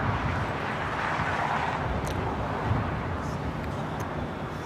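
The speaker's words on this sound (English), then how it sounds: "Got that EVA Air Cargo 777 freighter now lighting up." An EVA Air Cargo Boeing 777 freighter spooling up for a south-side takeoff at Los Angeles airport, a broad, steady jet roar with wind-buffeted rumble, sustained and moderately loud throughout.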